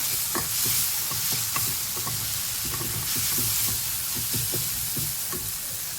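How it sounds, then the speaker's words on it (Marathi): Turmeric, garam masala, coriander and red chili powders stirred into a water chestnut curry frying in oil, a continuous sizzle with repeated spoon scrapes and taps against the pan. "थोडासा गरम मसाला धनिया पावडर आणखी लाल मिरची पावडर मिक्स करून घेऊया"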